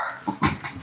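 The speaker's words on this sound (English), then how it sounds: "outside for a little bark" A dog barks outdoors at a rural spot, giving a couple of close, sharp yips and whimpering barks in quick succession.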